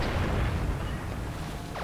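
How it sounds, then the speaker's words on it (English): Explosions in a Star Trek video game during an attack, heard as a steady, loud, low booming rumble that fills the whole stretch without any talk. "Why is there explosions happening over here? Because we're being attacked."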